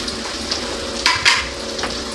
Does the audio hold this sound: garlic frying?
yes